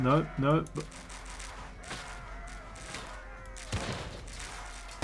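Rattling gunfire crackles in a World War Selection 1v1 battle, a steady clatter of shots with sharper bursts, while someone talks over the top at the start.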